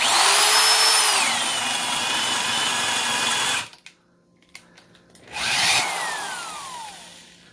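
A power drill with a spade bit bores into wood, a loud steady high whine that cuts off abruptly, leaving near silence with a few small knocks, then spins up again and winds down, close and alone.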